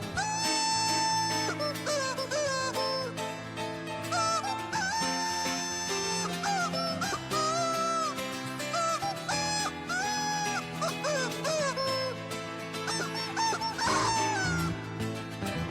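A chicken sings a cover of a Grease song on a played recording, bright tuneful clucking and squawking over continuous music backing, loud and sustained with no talking.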